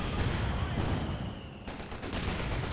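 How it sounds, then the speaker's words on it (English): German rocket artillery in Company of Heroes 2 roars and pounds in a dense barrage, a loud rumbling wash of blasts that cuts off abruptly, then continues more thinly, with no voices. "All of a sudden the Germans bring up a lot of cannon rocket artillery"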